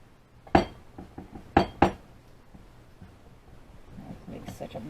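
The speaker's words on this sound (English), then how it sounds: "And we stir it up." Spoon clinking against a bowl while chicken and dumpling dough is stirred, a few sharp close clinks early then softer scraping, with a person speaking.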